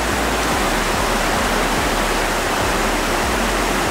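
River water rushes through a forest near Ushuaia, a loud, steady broadband roar with no breaks or other sounds standing out.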